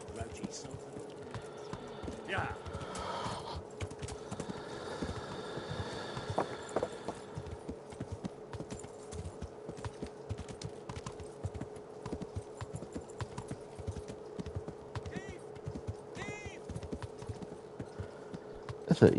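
Horse hooves clip-clop at a steady riding pace in the medieval video game Kingdom Come: Deliverance, a quiet, continuous rhythm of hoofbeats running throughout under occasional game sounds.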